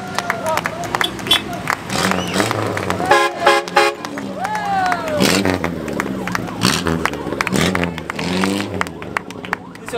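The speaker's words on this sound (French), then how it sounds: "Je m'engage à avoir le klaxon le plus fun de tout le plateau." Several car horns toot and honk in bursts among rally cars at the 4L Trophy finish on a Formula One circuit, with a lively crowd and people talking throughout.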